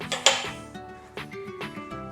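Cashews drop into a metal pressure cooker, giving a few sharp, close metallic clinks and clatters that ring out briefly, spaced irregularly with quiet between the hits.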